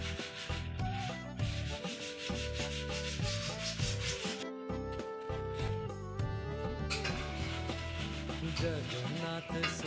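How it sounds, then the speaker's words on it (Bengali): Hands stretch and flatten rolled khaja dough in a home kitchen, making a steady soft rubbing and scraping under loud devotional music that plays throughout. "টেনে টেনে সমান করে নেব রুটিটা"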